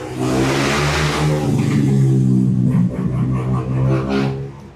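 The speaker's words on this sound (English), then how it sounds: "Here comes a maniac on a bike. Let him go past." A motorbike rides past close by, its engine revving in a loud rising then falling whine that fades away as it moves off, with no talk over it.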